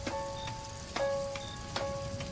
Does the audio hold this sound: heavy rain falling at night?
yes